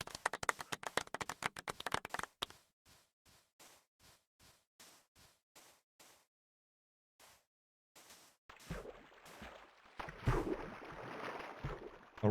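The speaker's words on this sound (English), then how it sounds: "Round of applause." Applause from a streamed charity-marathon audience: a quick burst of dense clapping, then a sparse run of separate claps trailing off, a pause, and a louder, noisier stretch of cheering and clatter.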